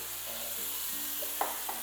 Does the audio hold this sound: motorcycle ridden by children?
no